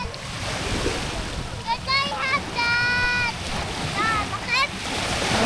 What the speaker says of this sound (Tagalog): Tsaka yung sound ng alon.